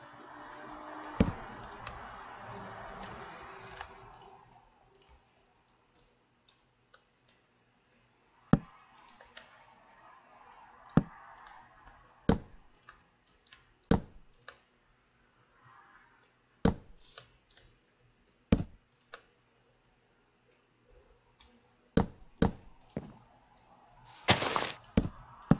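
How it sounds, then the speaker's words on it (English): Mouse clicks while playing Minecraft come as sharp isolated ticks, sparse at first and then in quicker clusters, over a faint hiss with a brief noisy patch near the start. "Thank goodness for shift clicking."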